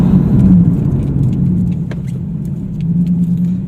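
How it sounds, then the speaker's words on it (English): A Nissan 370Z brakes to bed in new pads and rotors, heard as a steady loud low rumble of road and drivetrain noise that eases slightly as the car slows, with faint light ticks and rattles. "So we'll do a brake here."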